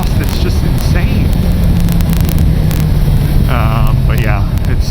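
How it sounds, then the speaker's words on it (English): A BMW S1000XR motorcycle with its stock exhaust drones steadily at speed, the low engine note rising slightly, mixed with heavy wind buffeting and brief talking. "it makes such a good sound with this stock exhaust"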